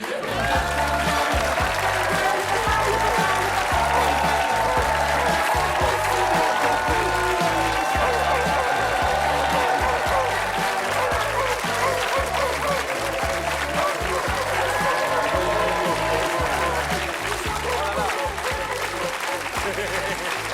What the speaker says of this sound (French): Je vous demande d'applaudir Kikinuit, les Skikimos.